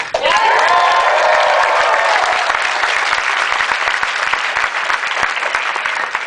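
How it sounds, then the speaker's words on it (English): Audience at a SXSW panel breaking into loud applause with cheers and a few whoops, a dense sustained burst of clapping that tapers slightly but stays strong throughout. "let's give her a big cheer"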